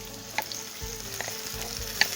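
Onion, garlic and pepper sizzle in a pan with ground fava beans, a steady frying hiss broken by a few soft stirring knocks.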